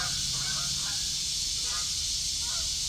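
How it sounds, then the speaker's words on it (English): Several faint, distant honks from geese flying overhead repeat in a loose series over a steady hiss of outdoor background noise. "you hear the geese flying over? Listen."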